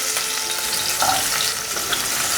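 Red and yellow bell peppers stir-fry with carrot and soft tomato in a hot pan, a loud continuous sizzle with scraping from the spatula as the vegetables are tossed quickly.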